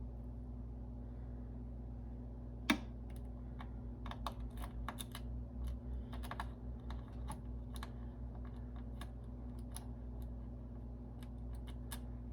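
A tiny screwdriver turns the small M.2 drive screw into a motherboard during a Ryzen 5 3600 PC build, giving a run of faint close clicks and scrapes over a steady low hum, with one sharp tap near the start.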